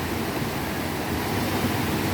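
Rushing river water at a wading spot with a safety rope, a steady, loud broadband roar filling the whole clip without pause, close to the microphone and without any voices.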